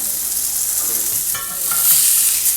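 Meat searing in a hot pan, a loud continuous hiss and crackle of sizzling fat heard up close, steady throughout with slight swells and no talking.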